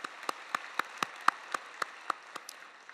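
Steady, evenly spaced hand claps, about four per second, ring out at a Sunday worship service at Yoido Full Gospel Church. The clapping is moderately faint and roomy, with no talk over it.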